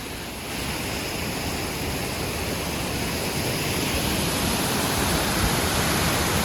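Rodney Falls, a waterfall on a forest hiking trail near Mount Hamilton, heard as a continuous broadband roar of rushing water, steady and fairly loud with no voices.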